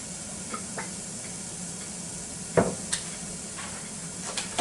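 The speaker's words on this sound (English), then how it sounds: "Starting to boil pretty good" Liquid coming to a boil in an Instant Pot Duo Crisp for mac and double cheddar, a steady low simmering hiss with occasional faint pops and ticks, no talking.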